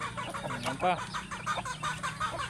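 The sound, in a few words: chickens clucking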